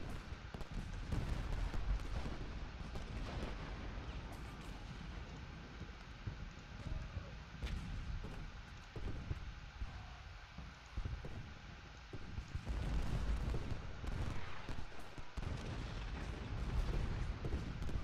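Artillery fire from cannon batteries in the Civil War strategy game Ultimate General: Gettysburg, with battle noise near Little Round Top: dense, continuous rumbling booms and crackling volleys that swell and fade, loud throughout with no talk.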